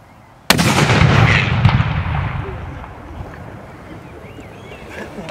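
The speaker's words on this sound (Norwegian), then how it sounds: "Fyr kanon!" A ceremonial cannon fires one sudden, loud blast at a Norwegian municipal naming ceremony, and the boom rolls away into a long, slowly fading echo outdoors.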